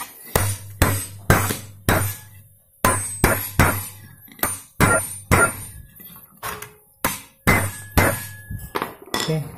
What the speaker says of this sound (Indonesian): kita kencangkan dengan palu.